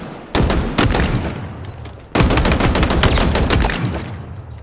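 Commando rifle in Halo Infinite firing two sustained bursts of rapid automatic shots, loud and close, with a short pause between them.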